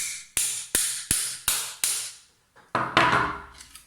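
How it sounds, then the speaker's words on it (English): Five evenly spaced sharp hammer strikes on a metal part ring out with metallic clangs, followed after a pause by a few more rapid, louder blows. "give it another good whack with the hammer"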